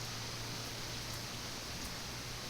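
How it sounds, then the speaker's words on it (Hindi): Heavy rain in an Indian bike-driving 3D video game forms a dense, unbroken hiss with a low steady hum underneath, constant and even throughout with no talk over it. "तब तक के इतनी खतरनाक बारिश बढ़ गई"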